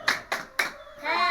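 A 'tepuk hebat' clapping chant by a group in a training session: three sharp, evenly spaced claps close to the mic, followed by a voice chanting.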